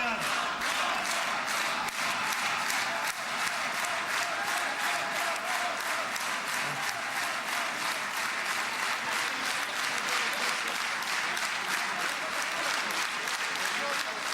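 Sustained applause filling a parliament hall as a protester is ushered out, a dense, steady roar of many hands clapping at moderate distance with no break.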